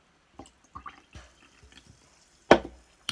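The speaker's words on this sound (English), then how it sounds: "Let's pour a bit more in." Irn-Bru Energy, a fizzy orange drink, poured into a glass in a few short splashy bursts with quiet gaps, ending in one louder close gush of liquid.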